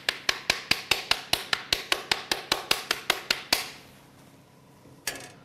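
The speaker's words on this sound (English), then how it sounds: "I hold it over the chocolate, tapping all the time, knocking out the excessive amounts of chocolate" A chocolate mould being tapped over a bowl of melted chocolate to knock out the excess: about fifteen sharp, evenly spaced knocks in quick rhythm, close and loud, then a pause and one last knock.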